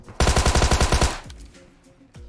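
Rapid automatic gunfire in PUBG Mobile, about ten loud evenly spaced shots in a quick burst, then a fading tail and a couple of softer thumps.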